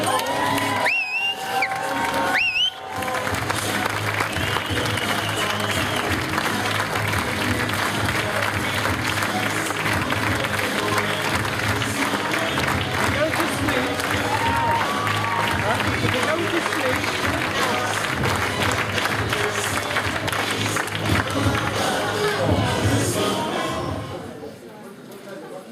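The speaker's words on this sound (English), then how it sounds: "So a massive now round of applause, please" A large audience at a Harrogate event breaks into sustained, loud applause with cheering and whoops, a dense wash of clapping that holds steady before fading near the end.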